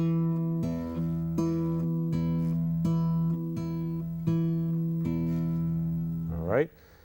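Fingerpicked guitar repeats a low bass note with a ringing high open string on each beat, steady and close, ending with a brief string slide.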